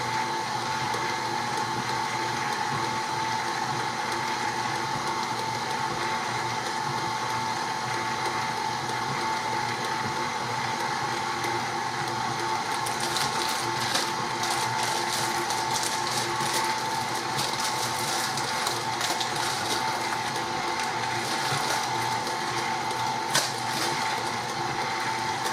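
An electric hand mixer whirs steadily in a bowl, stirring a cup of flour into sour cream cake batter; the motor drones continuously and close, with a brighter rattling scrape of beaters against the bowl joining partway through.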